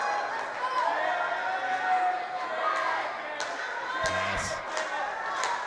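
Wrestling crowd at an ECPW event jeering a wrestler who regroups outside the ring, a broad murmur of boos and shouts under a commentator's voice, with a few sharp knocks from the ring near the end.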